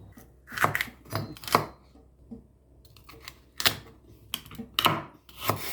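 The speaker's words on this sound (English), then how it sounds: "Then cut the celery into cubes." A knife chops a trimmed celery stalk into cubes on a cutting board, giving close, crisp cuts in quick clusters separated by short pauses.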